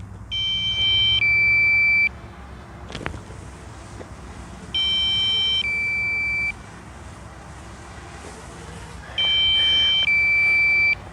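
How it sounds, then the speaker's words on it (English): A drone's low-battery alarm sounds in three bursts of rapid electronic beeping, each about a second long, spaced a few seconds apart over faint wind and background noise outdoors. "you can hear the alarm here"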